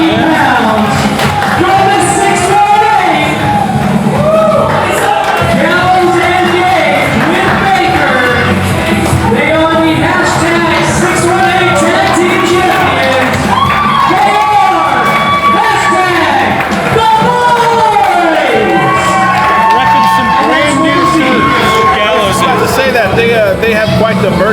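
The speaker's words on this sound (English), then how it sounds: "Yeah, you hear the crowd reaction." A pro wrestling crowd at an indie show cheers, whoops and shouts continuously, loud and dense, with voices rising in waves throughout.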